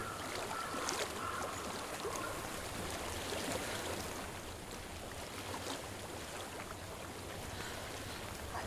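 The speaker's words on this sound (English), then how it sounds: "I hear water." Flowing water from a stream in Hellblade: Senua's Sacrifice, a steady, faint rushing and trickling wash that continues evenly throughout, with no voices.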